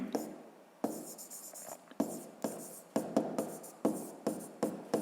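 Pen or pencil writing on paper while working a fifth-grade maths exercise: close, scratchy strokes come in short bursts separated by brief pauses, with no talking.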